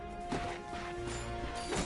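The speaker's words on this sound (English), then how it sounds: "Look at him smashing crates." Crates being smashed in the video game Ratchet and Clank, two or three sharp cracking impacts spaced apart over a steady game background hum, fairly loud.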